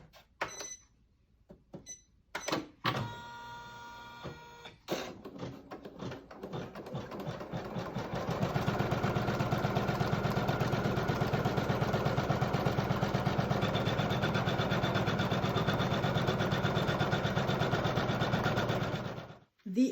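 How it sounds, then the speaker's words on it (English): Embroidery machine stitching a boot outline and a fabric placement line, starting after a few clicks and beeps, then a fast, steady, rhythmic needle chatter that runs loud and even for over ten seconds before stopping. "The design is on my embroidery machine, and I'm ready for the first step, which is an outline of the boot and a placement line for the fabrics."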